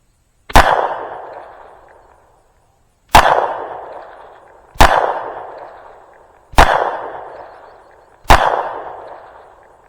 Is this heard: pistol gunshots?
yes